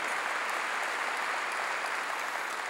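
A church congregation applauds during a sermon, a steady dense wash of clapping that holds evenly and fairly distant for a few seconds with no voices over it.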